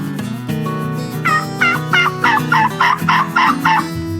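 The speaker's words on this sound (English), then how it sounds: "The sound they make is a gobble." A male turkey gobbles loudly and close by: a rapid, rattling burst of repeated throaty notes that builds over a few seconds, preceded by some lower calls, with no talking.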